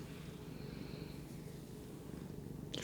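A cat purrs softly while being held, a low, steady, rhythmic rumble heard close up and fairly quiet throughout.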